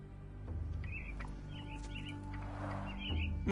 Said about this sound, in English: Minor birds, if I'm not mistaken. Beautiful creatures.